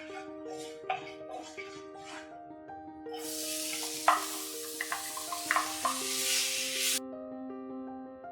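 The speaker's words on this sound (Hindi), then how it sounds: "अब हम इसमें मूंग दाल डाल लेते हैं।" Moong dal roasting in a pan for kachori filling: a steady sizzling, scraping hiss rises partway through and runs under a gentle background melody, then cuts off.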